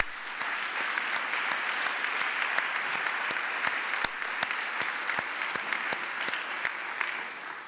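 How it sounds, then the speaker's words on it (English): Audience applause for the team from Houston at the 2012 Broad Prize ceremony: steady, dense clapping from a large seated crowd, sustained evenly throughout at moderate loudness. "Could the team from Houston please stand and give them a round of applause?"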